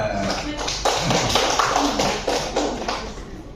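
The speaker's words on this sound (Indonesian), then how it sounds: "Berikan aplaus pada kita semua." A classroom group claps in a series of quick, rhythmic bursts, moderately close, with voices mixed in.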